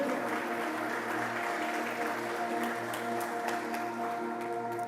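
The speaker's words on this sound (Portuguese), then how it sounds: "Você pode aplaudir a presença dEle nessa noite aqui." A church congregation applauds during an evening service, a steady wash of clapping at moderate distance over a sustained musical drone with held tones.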